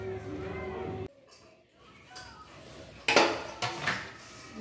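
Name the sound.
cake machine being set in place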